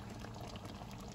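Black pepper beef sauce with celery and capsicum bubbling softly in the pan, a faint, steady simmering crackle heard close and alone.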